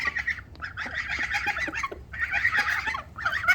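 Chickens cluck and squabble with young geese in a backyard flock, a dense, loud chorus of overlapping clucks and honks that comes in waves with brief lulls.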